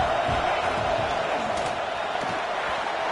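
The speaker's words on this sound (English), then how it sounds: "how nice is it to have the home crowd going absolutely bananas?" Home crowd at a Bama football game roaring loudly in the fourth quarter, a steady broad wash of cheering and shouting from a large stadium that holds fairly constant throughout.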